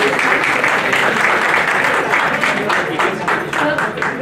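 An audience at the ROVEX Awards 2025 ceremony gives a loud, continuous round of applause, dense and steady throughout, with a voice faintly audible underneath.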